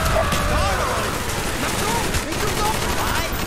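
Rapid gunfire and explosions from the video game Call of Duty Black Ops, set in the Vietnam War, with loud, dense bursts of shots and booms in continuous succession, mixed with voices.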